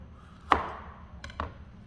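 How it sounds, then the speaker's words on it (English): A kitchen knife slices peeled carrots at an angle on a cutting board, two crisp, close chops with a sharp thunk and crunch each, separated by a quiet pause. "So I peeled my carrots, and what I'm going to do is at an angle, I'm going to cut them."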